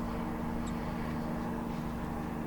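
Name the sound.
hang glider flying over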